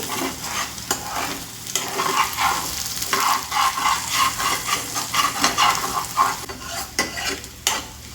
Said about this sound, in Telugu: కొంచెంగా పసుపు వేస్తున్నాను వేసేసి మిక్స్ చేస్తున్నాను